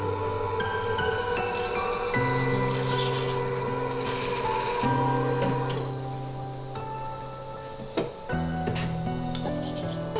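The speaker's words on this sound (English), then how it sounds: "we move on to polishing, which smooths the surface and raises the adhesion and durability" An urushi lacquer coating is polished by hand with steady, soft rubbing strokes, heard close and continuous over a layer of background music, with no talking.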